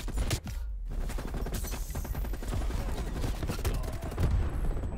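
Rapid, dense automatic gunfire in the video game Black Ops Cold War, a continuous loud rattle of shots and explosions filling the whole few seconds.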